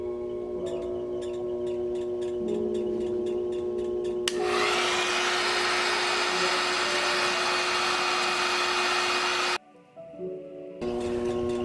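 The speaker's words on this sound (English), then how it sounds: "So this is the hair dryer that we have here." An old hair dryer blows steadily to dry clay pottery on a potter's wheel, its airflow roaring close and loud for several seconds, then cutting out briefly before starting up again.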